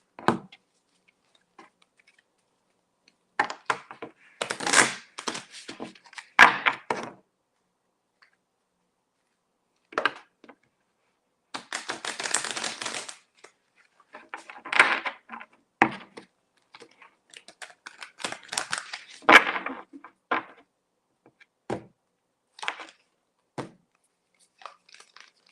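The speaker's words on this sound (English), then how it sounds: "let me shuffle the cards really quick, Sajal," A deck of tarot cards shuffled up close, with bursts of papery flicking and tapping, a long buzzing riffle in the middle and quiet pauses between handfuls.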